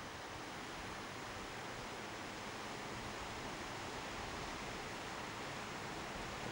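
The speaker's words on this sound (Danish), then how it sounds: "Vandet hernede, det løber ind igennem El Chorro." River water runs through the El Chorro gorge below the path, a constant broadband rushing hiss that stays even and unbroken throughout.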